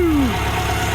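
A Renault Sport Spider's 2-litre 16-valve four-cylinder engine, the Clio Williams unit, fires up: a brief falling starter whine gives way to a close, steady mechanical idle rumble.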